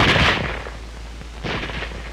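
A World War II era bolt-action rifle fires two loud, sharp shots about a second apart, each blast ringing out and decaying into a brief echo.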